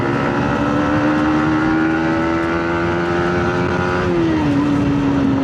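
Steady engine drone from a Kawasaki Z900 motorcycle on a coastal road ride in the Konkan, holding an even pitch before easing slightly lower near the end, loud and close with no talk.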